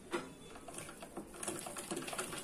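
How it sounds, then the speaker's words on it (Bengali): A household sewing machine runs steadily while stitching cloth after a feed repair, giving a close, rapid, busy mechanical whir with faint ticking, alone with no voices. "এখন আমরা আপনাদেরকে চালিয়ে দেখাচ্ছি যে কাপড় সামনে যায় কিনা"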